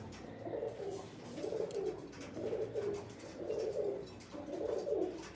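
Large French pigeons, a breeding pair, cooing in a steady rhythm of five or six repeated low calls over soft background noise, fairly faint and unaccompanied by speech.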